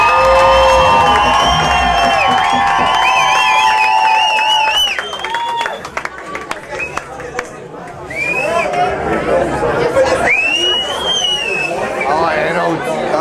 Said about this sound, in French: Applaudissez-les chaleureusement